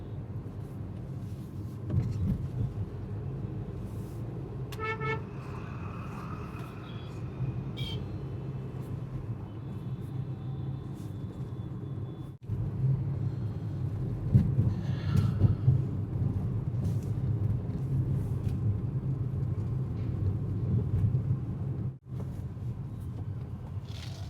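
Traffic on the Focal Point main road in Ludhiana, India, a continuous low rumble of passing vehicles heard from inside a moving car, with a few brief clunks and tonal beeps and the rumble swelling midway.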